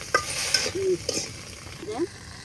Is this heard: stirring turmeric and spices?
yes